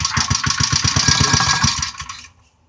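An antique engine from a David Bradley cultivator is pull-started and fires in a fast, even run of loud close puffs for about two seconds, then sputters and dies to silence.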